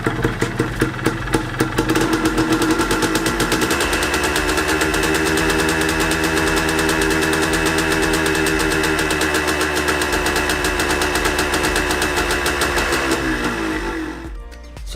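A Yamaha DT125 two-stroke motorcycle engine is revved up to about 5,000 RPM and held there, a loud, steady buzzing drone that rises in the first few seconds, stays constant, then drops away at the end.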